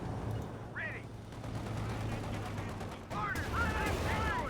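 Bursts of .50 cal machine gun fire in Company of Heroes 2, fairly faint under a commentator's continuous talk, with short rattling volleys.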